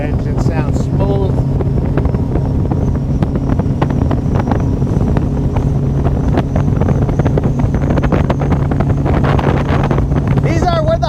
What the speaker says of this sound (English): God, that engine sounds smooth.